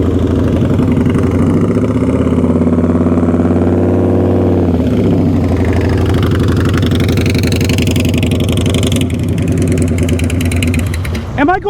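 A motorcycle engine idles and putters at low revs during slow-speed riding practice in a parking lot, with a steady mid-pitched drone and slight rises and falls in revs, close by, while a person talks over it.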